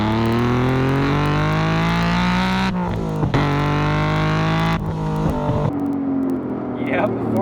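Tuned Acura NSX making 400 wheel horsepower on E85, engine revving hard through rising pitch sweeps with abrupt cuts between gear changes, loud and close, with a voice talking over parts of it.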